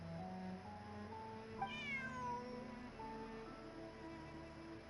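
A cat meows once in the video game Genshin Impact, a clear, rising and falling call over a steady, quiet ambient game background.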